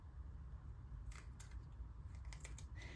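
Scissors snip away excess paper from a small junk journal made from a repurposed hotel soapbox, a few short crisp cuts arriving in a quick cluster over a steady low background hum.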